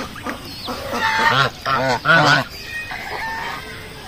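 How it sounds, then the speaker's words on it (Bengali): Four large geese give loud, close, repeated nasal honks in quick bursts, with quieter calls and background noise between them. "অনেক বড় বড় আছে হাঁস চারটি, আর বাচ্চা দুটোও খুব সুন্দর।"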